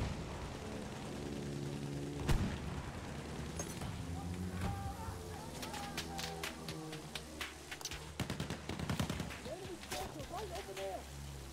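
Distant and mid-range gunfire and explosions from the Battlefield 1 video game on the Cape Helles map, with bursts of shots and booms mixed into a busy battle soundscape, partly under players talking over it.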